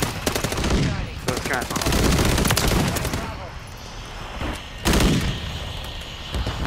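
Rapid automatic gunfire and single shots from Call of Duty: Modern Warfare 3 on the Shoot House map come in loud, dense bursts with short gaps, while a player talks briefly.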